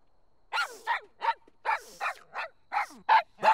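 A dog barks repeatedly in short, sharp bursts, nine or so yips in a steady rhythm, fairly close and loud, with brief pauses between.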